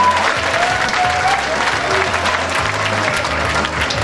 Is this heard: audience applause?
yes